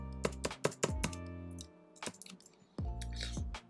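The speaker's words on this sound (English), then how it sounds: "we can start typing champions" Typing on a computer keyboard during a Photoshop interface design session, heard as a few bursts of clattering key presses separated by short pauses.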